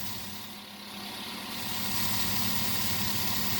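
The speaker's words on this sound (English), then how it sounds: "The engine on this Chevy Suburban is having a little bit of a rough idle." A 2009 Chevy Suburban's 5.3 V8 idles roughly with a cylinder misfire, a steady close engine drone with an uneven low rumble that swells slightly in the second half, no talk.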